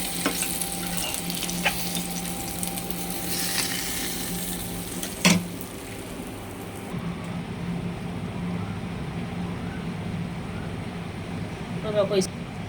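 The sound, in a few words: koi fish frying in a pan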